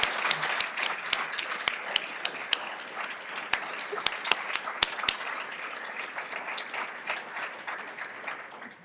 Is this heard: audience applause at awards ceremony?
yes